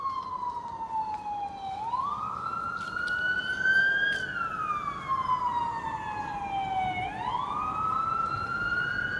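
A wailing emergency siren from fire department and ambulance vehicles sweeps up and down in pitch, fairly distant and steady over street background noise, with no talk.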